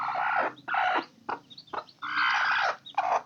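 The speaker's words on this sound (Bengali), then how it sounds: "আর আজকে দেখবো যে মুরগির কটা বাচ্চা ফুটছে" Domestic hen with a brood of newly hatched chicks, giving repeated bursts of clucking and calling in separate short phrases with pauses between, fairly close and clear with no talk.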